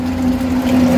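A broken automatic washing machine on 220 V drains water with a steady, loud pump hum that holds one even drone for the whole second.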